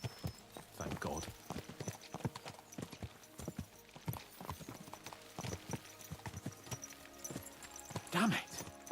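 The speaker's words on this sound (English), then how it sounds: "Let's really spur these horses on, eh?" Horses' hooves clip-clop in a quick, uneven rhythm, fairly close, with a brief whinny near the end and some background murmur beneath.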